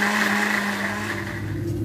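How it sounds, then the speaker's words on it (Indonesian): An electric food chopper whirs steadily as it blades through bay leaves and lemongrass for Indonesian yellow rice, a loud constant motor hum with a slight drop in pitch toward the end. "Oke, kita lanjut chopper ya."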